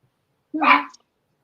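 A dog gives a single short bark, loud and close, in a quiet room with no other sounds.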